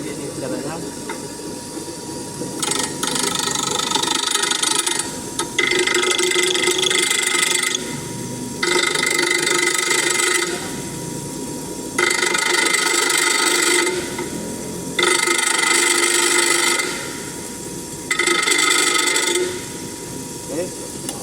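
Angle grinder starting and stopping in repeated bursts of a few seconds each, a loud harsh whine and hiss with short quiet gaps between them.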